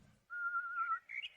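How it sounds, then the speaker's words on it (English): A man whistles outside beneath a window, one clear sustained note that slides upward into a short rising phrase. The sound is fairly faint and heard alone, with no talking. "A fellow's been whistling under my window for hours."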